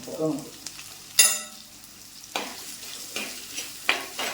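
Sliced onions cook in a pan with a quarter spoon of salt, with soft frying sizzle under intermittent scraping and stirring clatter from a utensil against the pan, several sharp clinks standing out.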